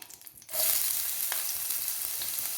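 Chopped onion drops into hot oil for chicken noodles and begins to sizzle, starting with a sudden rush of crackling after a quiet moment and holding a loud, even hiss.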